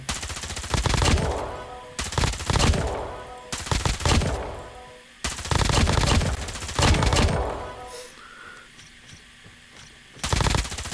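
Rapid automatic bursts from a Carrot Cutie M13 assault rifle in a ranked video game match, loud and close, coming as several long strings of fire separated by short pauses.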